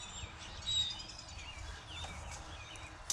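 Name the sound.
birds chirping outdoors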